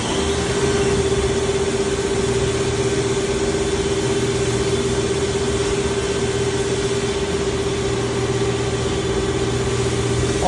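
A 1999 Haas SL-20 CNC lathe with VDI turret and parts catcher runs a program at full rapid with no material loaded and coolant off, giving a steady, loud mechanical hum with a constant whine throughout and no talking.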